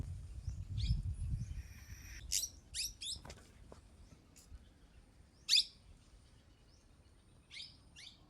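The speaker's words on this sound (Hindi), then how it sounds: "और ये चिड़िया यही आम के पेड़ पर बैठी हुई है पर दिखाई नहीं दे रही कि ये कहाँ पर है" A bird sings unseen from within a mango tree, sending out several short bright chirping phrases spaced across the moment, fairly close and clear over a low rumble of wind, with no one talking.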